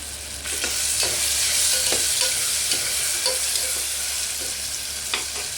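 Tomatoes cook down in a hot pan while being stirred for tomato rice, a loud continuous sizzle with repeated scraping strokes of the spoon, close up and without talk.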